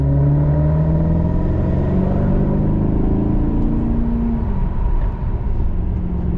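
Maserati driven at night under a bridge, its engine giving a loud, close, sustained rumble with the tone sweeping through a gear change and the drone echoing off the structure overhead.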